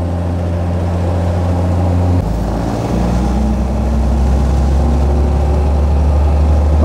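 A 1934 Mercedes 290 Cabriolet D engine drones steadily while driving, a deep low rumble that shifts pitch partway through as the car changes speed, with no talk over it.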